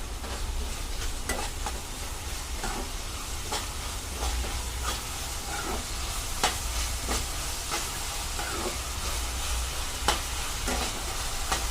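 Onion sautés with salt in a pan, a steady low sizzle punctuated by regular scraping stirs and spoon taps, close and moderately loud with no talking.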